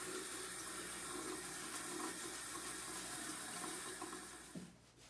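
Water runs steadily from a bathroom tap while a beard is washed, a loud continuous splashing rush that cuts off near the end, with no talking.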